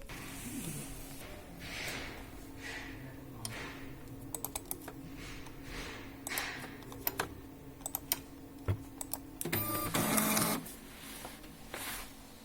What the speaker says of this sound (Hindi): अब आप देख सकते हैं टेक्स्ट पेज आ रहा है, हमारे प्रिंटर से प्रिंट निकल रहा है।